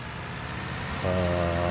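A tractor in Farming Simulator 19 pulls a disc harrow across a field. Its engine hum stays low and faint at first, then rises into a louder, steady tonal drone.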